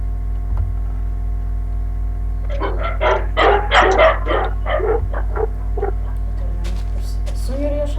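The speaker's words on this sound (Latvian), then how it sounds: "Par suņu riešanu." A dog barks in a short burst of several rapid woofs in the middle distance, set against a steady electrical hum with no talking.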